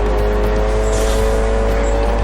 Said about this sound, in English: I'm driving a KTM XBOW, one of my favourite cars